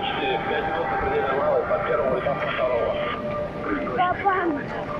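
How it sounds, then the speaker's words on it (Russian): A helicopter flies over the VDNKh exhibition grounds in Moscow, giving a steady broadband rumble that stays fairly constant, with people talking nearby throughout. "Тут прям какие-то звуки, как будто летит кто-то на вертолете."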